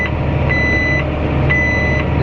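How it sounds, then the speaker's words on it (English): Farm machinery doing planting and land rolling gives off a steady run of high warning beeps, about two per second, over a constant loud engine rumble, with no talking. "This thing is beeping at me all the time."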